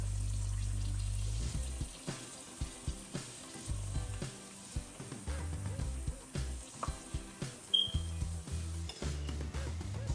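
Mackerel patties deep-fry in hot oil, giving a steady crackling sizzle broken by frequent soft clinks and stirring knocks from a utensil against the pan.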